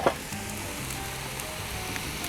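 Soy sauce and butter sizzle steadily on a hot Blackstone griddle with beef fried rice, a loud continuous frying hiss close up that barely changes, with no voices over it.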